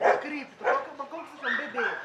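French bulldogs barking and yipping in short bursts at a kennel, several loud close barks spread across the clip, with people talking around them.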